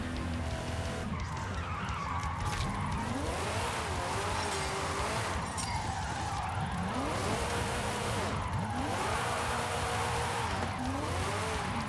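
A Gordini 8 car drifts in Forza Horizon 5, its engine revving up and down in repeated rising and falling sweeps as tires squeal and skid loudly and steadily throughout.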